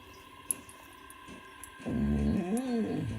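A dog in a jewelry-smithing workshop lets out a close, sustained, wavering whine or whimper over the last second and a half, after a quiet stretch of faint room noise.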